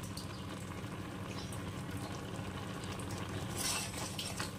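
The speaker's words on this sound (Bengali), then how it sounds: "এভাবে ভাজা মশলাটা দিয়ে একটু নেড়ে চেড়ে" A spoon stirs a pot of Bengali shukto after a fried spice mix goes in. Soft scraping and a low bubbling simmer continue throughout, with a slightly louder clatter near the end.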